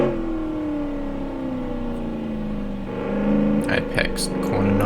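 A car engine in the Automation video game hums and then revs higher through the gears, building toward the end. Someone talks over the engine the whole time.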